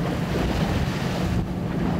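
Rough sea and gusting wind buffet the microphone aboard a small fishing boat heading out from a harbour on Baengnyeong Island in the Yellow Sea, a steady loud roar of wash and wind throughout with no voices.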